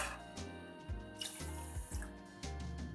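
Water pours from a tap into a pot for rasgulla sugar syrup, a steady splashing stream that rises and falls in short surges, close and alone with no voices.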